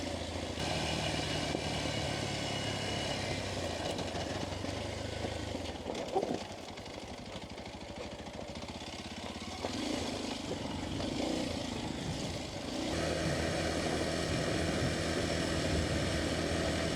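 A Kawasaki KLX230S trail motorcycle coasting downhill on a rocky trail, its engine a low, steady drone with wind rush, dipping briefly midway before settling back to a constant hum.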